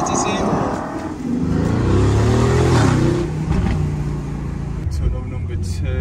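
A rebuilt Aston Martin climbs a dangerous mountain road full of hairpin bends, its engine a loud, close, sustained drone that rises and falls as it pulls through the turns. Faint wind noise runs underneath.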